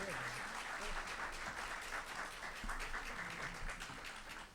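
Steady applause from a lecture audience in Portuguese at a literary talk celebrating the novel Os tambores de São Luís, dense continuous clapping filling the whole stretch at moderate volume without breaks.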